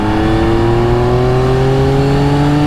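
A 2024 Yamaha XSR900 motorcycle engine pulls hard at full throttle, a loud close roar with its pitch climbing steadily as it accelerates, no voices.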